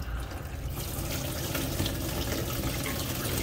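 Meltwater draining from a deicing evaporator into a container, a steady splashing, trickling stream of water running continuously at close range with no talk.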